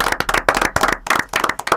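Audience applause for Ana at a literary reading event, a small group clapping in close, distinct bursts with brief gaps, fairly loud and near.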